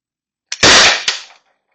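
A single loud, sharp report from an Umarex HDP-50 pistol firing Alien play ammo, with a brief snap right before it and a short fading tail. No one speaks over it.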